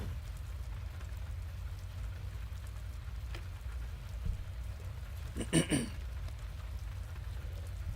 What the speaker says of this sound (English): he returned his attention to the sound of the rain